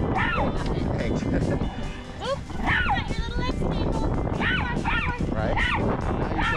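A dog at a dog park yipping and barking excitedly while playing with another pup, repeated high yelps and barks over constant loud crowd-like background noise.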